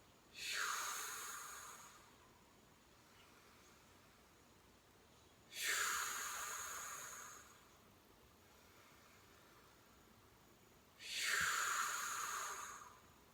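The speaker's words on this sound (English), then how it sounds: "engage on the exhale, relax on the inhale" Breathing during a core exercise: three slow, audible breaths spaced about five seconds apart, each a soft airy rush that swells and fades, close and quiet with faint background hiss between them.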